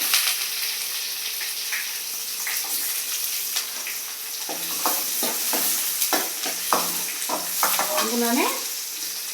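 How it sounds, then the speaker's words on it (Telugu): Onion frying in oil with cumin seeds for pesarattu, a strong, continuous sizzle with crackling spatters and stirring clatter building in the second half, and a brief spoken word from someone nearby. "జీలకర్ర వేసిన తర్వాత ఆనియన్ వేసుకోవాలి."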